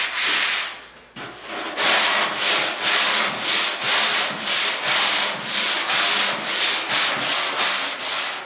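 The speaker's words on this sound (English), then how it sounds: "just hitting her with some 80 grit now" Hand sanding a 1972 Ford 4x4 short box pickup tailgate with 80 grit sandpaper, a close, loud run of steady rhythmic scratchy strokes, about fourteen in a row after a brief pause, with no talking.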